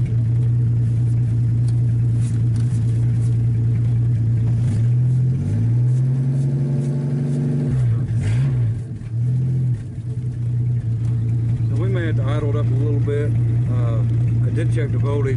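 A 1951 Studebaker engine idles with a steady, loud, low hum that dips and wavers briefly midway, while someone talks over it.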